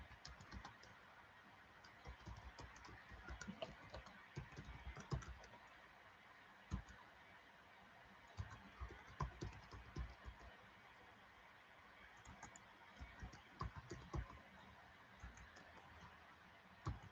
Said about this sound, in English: Hold on, I'm gonna type this address.